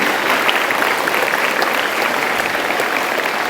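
Audience of athletes and coaches at a Bojonegoro branch training center clapping together, a dense, steady wash of applause that holds at an even level for the whole stretch, with no talk over it.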